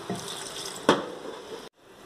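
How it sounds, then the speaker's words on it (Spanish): Water pours steadily into a cooking pot of vegetables, yuca and potato, a continuous close splashing rush with a brief clatter partway through before it cuts off abruptly. "Agregamos el agua"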